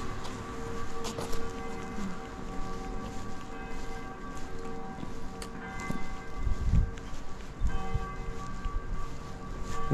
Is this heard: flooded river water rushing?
no